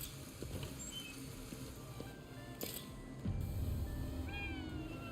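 A cat at a bodega counter in a Tokyo game shop meows several times in short rising cries over a low ambient hum and soft clatter, moderately close.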